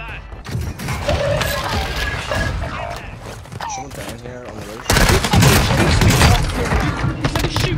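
Gunfire in the Warzone 2 video game, with bursts of shots and heavy thumps mixed into busy game sound and voices, growing louder and denser in the second half.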